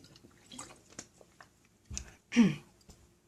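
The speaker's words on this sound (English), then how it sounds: "I'm going to get a drink of water." A person drinking water during a break from drawing, with a few small wet swallowing and sipping sounds and a louder gulp near the end, close and otherwise quiet.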